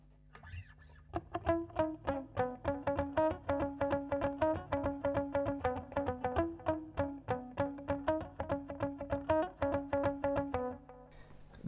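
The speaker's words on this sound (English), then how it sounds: "The second patch is just the lead patch from the song. It's compression, delay," Lead guitar tone from a Boss ME-80 multi-effects patch with compression, delay and reverb, playing a steady run of clean sustained notes in an even rhythm, smooth and close, fading out at the end.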